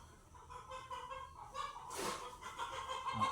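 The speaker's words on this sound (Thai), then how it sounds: "ไก่มันไล่อะไรกันเนี่ย" Chickens cluck and squawk faintly in the distance, with a short, louder flurry about two-thirds of the way through as they chase one another.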